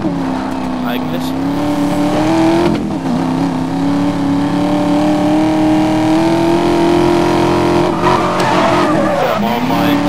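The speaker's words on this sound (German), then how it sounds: "Da machen wir mal einen U-Turn." A car in Need for Speed Most Wanted swings through a U-turn, its engine droning loudly and steadily throughout while tires skid and squeal, with a voice speaking over it.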